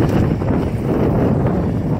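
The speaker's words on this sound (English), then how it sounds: "It's so windy, guys." Steady, heavy wind buffeting the microphone beside a canal in the Everglades, a loud continuous low rumble with no breaks.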